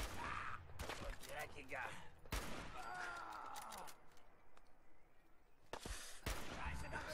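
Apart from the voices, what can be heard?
gunfire in video game Fallout 4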